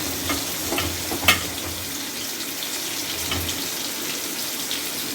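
Fish pieces coated in fish masala fry in a pan with a steady, close sizzle and occasional stirring clinks.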